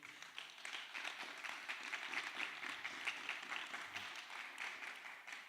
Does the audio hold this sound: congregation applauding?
yes